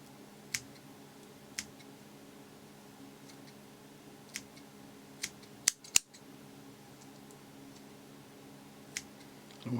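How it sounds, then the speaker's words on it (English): Small scissors snip fur while trimming a tiny bomber fly being tied, giving a handful of sharp, isolated clicks spread irregularly over a quiet background, with a quick double snip near the middle. "we can just kind of trim this down a little bit"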